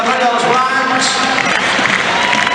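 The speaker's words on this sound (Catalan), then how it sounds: "Aquest aplaudiment mentre es va arribant tot el seguici de la colla dels Blancs." Crowd applause at the Granollers Festa Major pregó ceremony as the Blancs colla procession arrives, steady dense clapping filling the hall with a murmur of crowd noise and no break.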